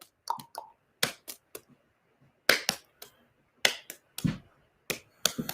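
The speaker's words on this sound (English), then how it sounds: "what I want you to do is I want you to add a little clap in there." Sharp isolated hand claps and catch slaps during a juggling practice, about a dozen crisp percussive hits in a loose irregular rhythm, close and clear with silence between.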